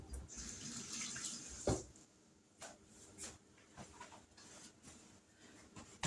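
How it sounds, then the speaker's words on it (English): Running tap water splashing over hands at a kitchen sink while making Thanksgiving pies, a steady hiss broken by a few louder splashes and knocks, fairly quiet and with no talking. "Now I got to wash my hands again."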